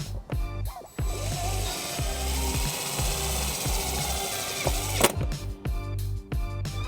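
A power tool drives a 1/4 inch tap screw into a flat metal surface for a ground terminal on a 2004 Chrysler Town and Country, giving a steady close whirring grind with a few rhythmic knocks, a sharp bang near the end and no talking.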